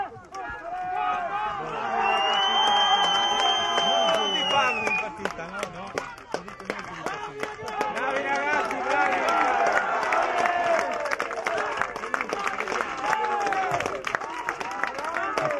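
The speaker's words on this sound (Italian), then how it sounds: "Applausi meritati per il Piacenza" Crowd noise at an under-15 youth football match between Piacenza and Pordenone at a small community stadium, continuous cheering and clapping with whistles and shouts throughout, under overlapping talk.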